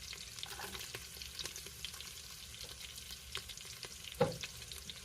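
Garlic sizzles softly in a pot for potato soup, a faint, even frying hiss with a few small clicks and one sharper knock near the end.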